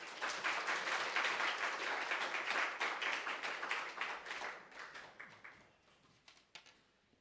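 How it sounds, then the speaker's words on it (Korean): A church congregation in Gimhae claps together for a pastor, a loud burst of applause that holds for several seconds, then thins into a few scattered claps and fades out. "큰 박수로 환영하겠습니다"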